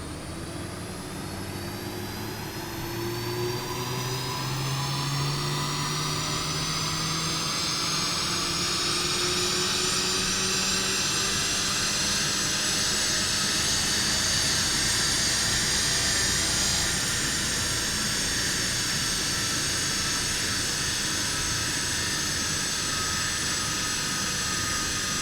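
A car engine on a dyno roars steadily and loudly, its pitch climbing gradually as it revs up, then holding high and smooth for a sustained stretch.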